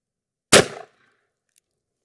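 A single sharp, loud .357 Magnum wadcutter shot is fired across a chronograph from about five yards outdoors, with a brief decaying ring and a faint tick a second later.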